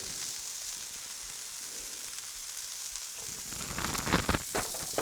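About a pound of 80-20 ground beef sizzles steadily in oil on a Blackstone griddle, a close, even hiss that grows louder and more crackly near the end with no talking.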